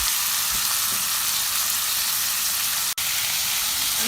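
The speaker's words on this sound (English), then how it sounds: "And saute all the vegetables just for 1 minute." Vegetables with mushrooms and onions sauté in a pan, giving a loud, steady sizzle and hiss throughout, with a brief stir clatter near the start and no talking.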